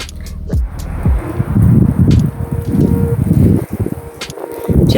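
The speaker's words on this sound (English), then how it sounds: "the wind's blowing up above, so it's blowing sand and stuff down" Gusty wind blowing above a slot canyon in the Barracks, buffeting close and loud with rumbling low rustle and sand-blown hiss, continuous with brief lulls.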